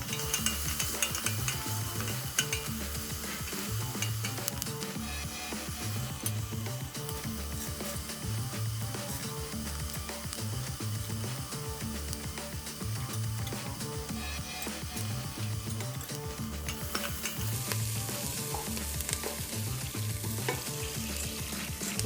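Non-dairy butter melts in a pot with vegetables, producing a continuous close sizzle and frying hiss with a faint repetitive scraping pulse running underneath throughout.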